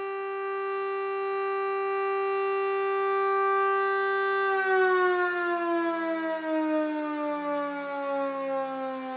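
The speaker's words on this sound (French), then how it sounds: "Alors quel est aujourd'hui l'usage exact de cette sirène" A civil defense alarm siren in Monaco holds a loud, steady wailing tone for about four seconds, then its pitch glides slowly downward as it winds down, sounding alone with no voices.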